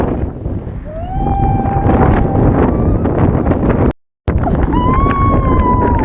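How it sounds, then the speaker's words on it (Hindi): Strong wind buffets the microphone in a loud, continuous roar, with a brief dropout and whistling tones, on a gusty day with lightning weather outdoors. "कितनी तेज हवा चल रही है, कितनी तेज हवा चल रही है।"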